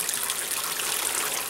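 Water poured from a pitcher into homebrewing gear, part of the wort run-off: a steady, continuous splashing gush that holds without a break, close and fairly loud.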